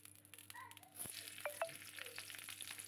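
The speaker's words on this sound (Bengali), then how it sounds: "এই যে কড়াইতে তেল দিয়েছি, একটা শুকনো লঙ্কা দিয়ে দিলাম" Dried red chilli frying in oil in a wok, giving a soft, steady sizzling hiss with a few sharper pops and crackles. The sound is fairly quiet and close, with no talking.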